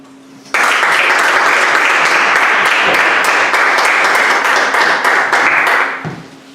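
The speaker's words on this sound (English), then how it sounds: "Introduce, ladies and gentlemen, with a wonderful round of applause" Audience at a speakers' club meeting gives a round of applause that starts abruptly, holds loud and even for about five seconds, then tapers off.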